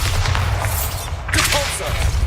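A booming blast from the Bombarda explosion spell in Hogwarts Legacy, a loud, heavy rumble with crackling debris, partly under a voice.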